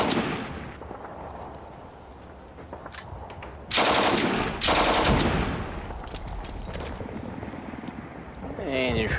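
Gunfire bursts from shooting in the Steel Panthers: World at War wargame, two loud broadband blasts in quick succession over a low background rumble, with a softer rattling effect near the end.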